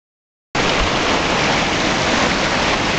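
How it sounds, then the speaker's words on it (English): Spring water gushing out from under the rock at Banyas (Caesarea Philippi) in Galilee: after half a second of silence, a steady, loud, broadband rushing roar starts and holds evenly, close by, with no voices. "This is the water that's coming out from under the rock here at Banyas, Caesarea Philippi."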